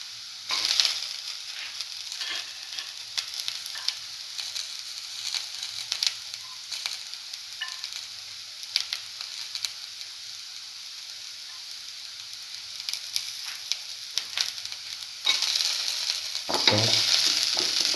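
Garlic sautés in a pan for a cinnamon mint egg stew, a steady close sizzle with stirring clatter and a louder burst of frying near the end, no voices.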